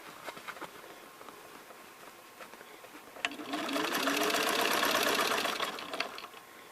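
A sewing machine stitching fabric pieces together, starting with light taps and clicks, then a sustained rapid close mechanical whirring for a few seconds before slowing to a stop.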